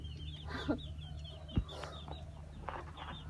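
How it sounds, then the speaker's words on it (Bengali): A pet rooster makes a few faint clucks and short calls at low volume, with quiet background hum and no talking. "আমাদের মোরগটা"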